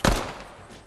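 A single pistol shot in Fortnite, fired from a purple pistol: one sharp, loud report at the start that fades into a short ringing tail, with no voices.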